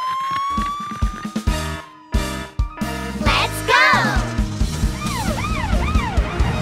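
Cartoon police car siren in a children's song, wailing up and down over bright backing music with a shouted voice near the start.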